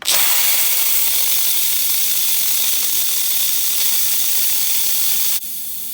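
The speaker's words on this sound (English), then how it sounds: "This is actually how I will release the steam now on my pot." Steam bursting from an Instant Pot's release valve, a loud, steady close hiss lasting several seconds before abruptly dropping off near the end.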